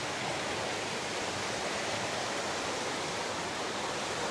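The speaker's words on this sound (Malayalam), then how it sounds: "ആ ഭാഗത്തുനിന്ന് ഒരു തോട് അവിടുന്ന് ഒഴുകി വരുന്നു" A stream flowing down a slope makes a steady, dense rush of water, close and continuous with no voices.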